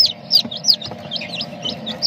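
Newly hatched chicks, hatched in a homemade incubator alongside Muscovy ducklings, peep in short high chirps roughly every few tenths of a second, close by, over a low steady hum.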